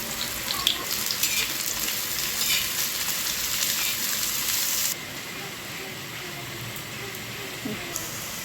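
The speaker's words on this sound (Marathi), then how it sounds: "अशा प्रकारे कांदा भाजून घ्यायचा आहे" Chopped onion sizzles in hot oil in a home kitchen pan, cooked for a paneer curry, with a steady, even frying hiss throughout.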